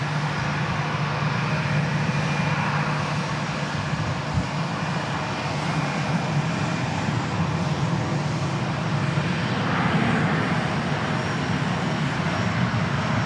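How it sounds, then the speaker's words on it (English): An American Eagle Embraer 175 jet airliner at DFW Airport gives off a steady, loud broadband roar with a deep low rumble that holds without break across the whole span, and no voices are heard over it. "The first of which is going to be an American Eagle Embraer 175 going to Rapid City."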